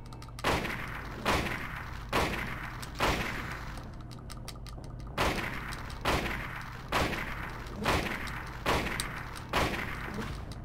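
Rifle gunshots fired at the FloatStinger moth boss in the PlayStation game Silent Hill, a series of about nine loud booming shots at roughly one-second intervals over a constant low game drone, with no talk.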